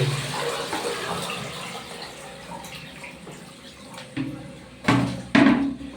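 Water gurgles and rushes down an unclogged household drain pipe after a blockage is cleared, a moderate flowing wash with a couple of louder surging splashes near the end and no talking.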